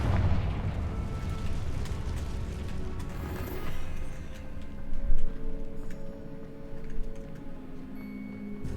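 Confringo fire spell blasting in Hogwarts Legacy, a moderate explosive burst amid a rumbling game soundscape, with a sharper impact in the middle followed by lingering tonal ambience.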